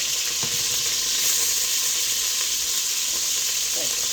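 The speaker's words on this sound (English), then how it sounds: "That caramelization that's happening, that's what you want. That's a hard sear." Meat getting a hard sear in a hot pan for carne guisada, a loud, dense sizzle and crackle that runs steadily throughout, with occasional stirring scrapes and no talking.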